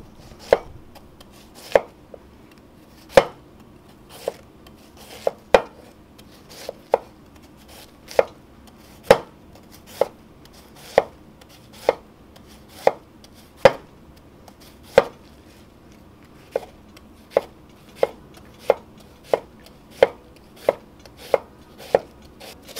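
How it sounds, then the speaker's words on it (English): Cabbage is sliced thinly with a knife on a board, about thirty sharp, evenly spaced chops in a steady rhythm, close and clear with no talking. "Alright, so the cabbage, basically just going to cut the end. Start cutting it really thin."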